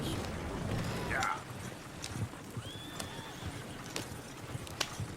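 Horses in Red Dead Redemption 2 around Valentine, with a whinny early on and scattered hoof clops and thuds throughout, heard amid ambient game noise and occasional talk.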